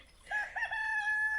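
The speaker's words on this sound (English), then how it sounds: "cockerels" A cockerel crows once on a homestead, a clear, fairly close cock-a-doodle-doo with a rising start and a long held final note, heard alone.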